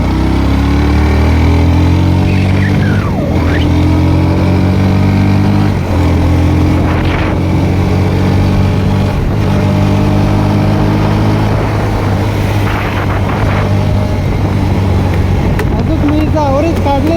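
A vehicle engine runs steadily on a road in the morning, a loud continuous drone with shifting pitch throughout, heard alone without talk.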